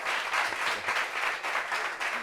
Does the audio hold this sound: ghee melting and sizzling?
no